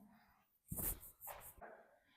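A dog gives a couple of short, soft barks or yips, faint and somewhat distant, within a quiet domestic setting.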